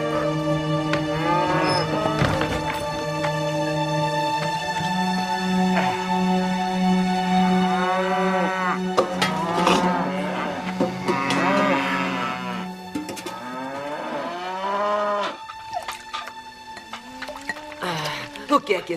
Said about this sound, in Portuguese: Muito bem! Vacas! Vamos, andem logo!